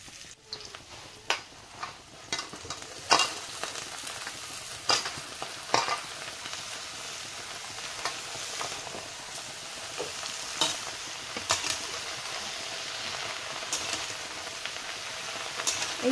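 Chopped taro stems sizzle in hot oil with fried onions in a home kitchen pan, a continuous frying hiss broken by sharp clacks and scrapes of a spatula stirring, close and loud.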